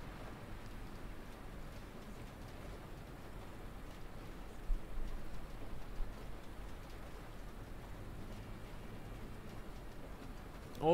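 Rain patters steadily and faintly during a ride on the TXL bus line from Berlin airport to Alexanderplatz in a game running on an RTX 3090, a soft continuous hiss with occasional light ticks.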